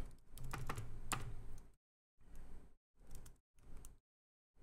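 Close computer keyboard typing in short bursts separated by silences, a dense run of clicks first and then three briefer clusters of keystrokes.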